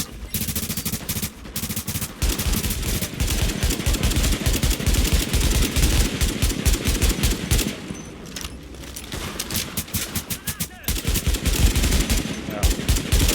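Sustained automatic gunfire and rapid bursts in the shooter game The Division fill the scene with dense, loud crackling that barely pauses, and faint speech can be heard now and then.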